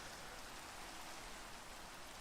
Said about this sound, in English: If it rains, it's raining right now.